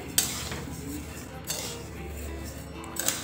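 Rice for chakli bhajani is stirred and dry-roasted in a pan over low heat, with faint scraping of a spoon and occasional metallic clinks against the pan, soft and close in a quiet kitchen.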